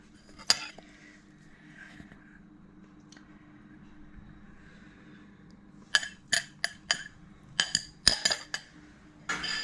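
Apple cake batter with light brown sugar stirred in a bowl: a quiet stretch, then a quick run of sharp spoon clinks and taps against the bowl near the end, close and clear, with no talking.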